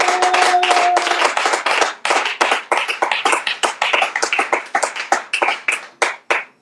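A church congregation applauds during a sermon: a dense burst of many hands clapping at once, then a steadier, rhythmic clapping that thins out and stops near the end, loud and close with no talk.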